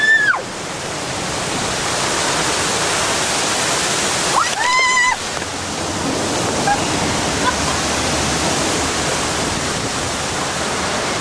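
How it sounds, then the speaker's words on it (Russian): A waterfall and river rapids on a mountain river ride at PortAventura in Spain rush as a loud, continuous wash of water close by, with brief voices calling out over it. "Водопад как раз мы на фоне."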